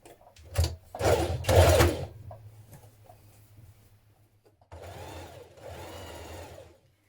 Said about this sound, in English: We're going to stitch that over the top.